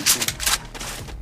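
Rapid bursts of gunfire from a mobile shooter game played on a Poco X3 Pro during a tournament match, dense crackling shots packed into about a second, loud and with no talk over them.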